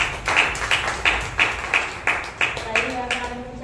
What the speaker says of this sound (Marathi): छान वाटतंय त्यासाठी जोरात टाळ्या.